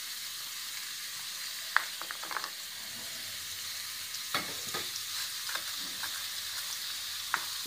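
Vegetables fry in oil for upma with a soft, even hiss, broken now and then by light scraping clicks of a spoon stirring in the pan.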